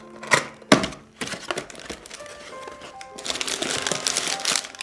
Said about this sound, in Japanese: ロゴ付きのガサガサ紙で包まれております。